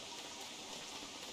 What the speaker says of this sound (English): I just want it to stop raining